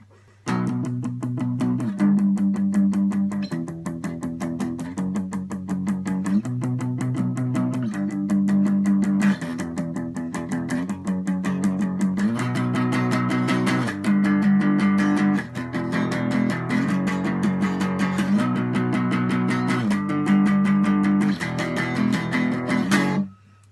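Electric guitar plays the first verse of a song with steady driving power-chord strums, chords changing every few seconds, loud and close throughout with no talking.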